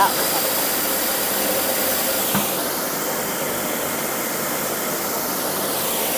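A rice milling machine with two systems for milling and bran grinding, with a straw sieve and two-tier rice sifter, runs with a steady, loud broadband whir and hiss, broken by one short knock partway through.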